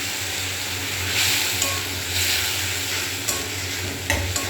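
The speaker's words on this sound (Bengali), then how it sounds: "দিয়ে আস্তে আস্তে মশলাটাকে কষাতে হবে" Spice paste frying slowly in a pan over a low flame, a steady loud sizzle with continuous stirring and scraping, occasional small clicks of a utensil, and no voices.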